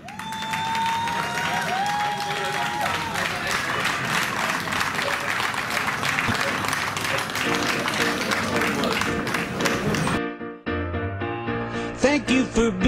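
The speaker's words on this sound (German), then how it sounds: "Nochmal einen riesen Applaus für den Jungen" Crowd applause for a boy at a charity handover event, dense, lively clapping with some cheering and faint voices that runs for about ten seconds before music takes over.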